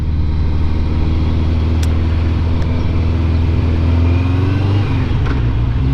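A car engine revs hard in low gear, a loud, close, strained drone holding high before the pitch drops as the load eases, with no talk.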